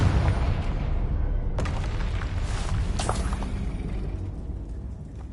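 A Confringo blasting spell explodes in Hogwarts Legacy with a deep rumbling boom that swells, then rolls on, while a couple of sharper crackling bursts sound over the decaying roar.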